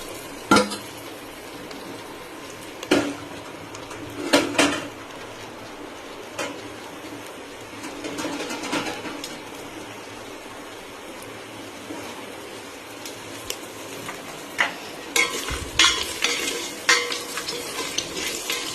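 Chopped vegetables for millet upma fry in a pan with a soft continuous sizzle, punctuated by repeated clinks and scrapes of a spoon stirring against the metal.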